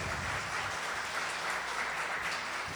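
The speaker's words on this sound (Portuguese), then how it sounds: "Salva de palmas para Jesus" A church congregation claps for Jesus at a pastor's service, a continuous, fairly quiet wash of hands from many people heard from a distance, with no voices.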